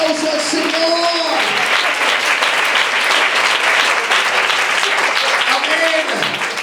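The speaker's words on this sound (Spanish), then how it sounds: "Dele ese aplauso al Señor." Church congregation applauding loudly and steadily, a dense continuous clatter of many hands, with a voice speaking over it in places.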